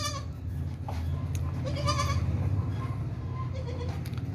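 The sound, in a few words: goat bleating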